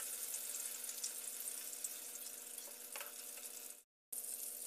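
Stuffed eggplant with galunggong fish fries in a pan, a steady close hiss of oil spitting and crackling throughout that cuts off briefly near the end before resuming.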